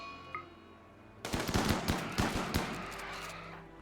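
A quiet moment, then sudden bursts of rapid video game gunfire, sharp cracking shots in quick clusters that fade into a lingering rumble.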